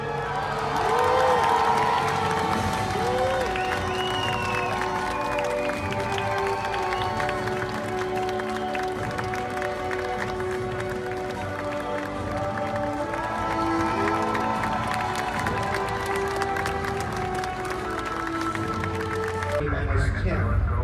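Audience applauding and cheering for the cast members of the Armageddon special-effects attraction at a Disney park, a steady wash of clapping and crowd shouts with voices talking throughout.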